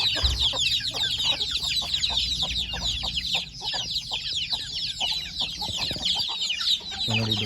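Hens and chicks of a native village breed cluck and peep close by in a dense chorus, with rapid high chirps over lower clucking.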